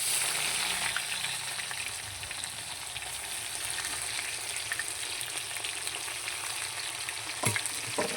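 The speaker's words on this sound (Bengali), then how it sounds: "এবার পেঁয়াজটাকে হালকা লাল লাল করে ভেজে নিতে হবে।" Chopped onions fry in a pan with cumin seeds for a home-style chicken curry, giving a steady, close, crackling sizzle throughout with no talking.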